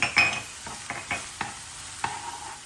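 Utensil stirring onions and garlic in a hot pot, several scraping strokes over a soft steady sizzle, close and moderately loud.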